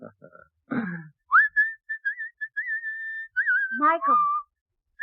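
Someone whistles a short, wavering tune up close, with brief bits of voice just before and after.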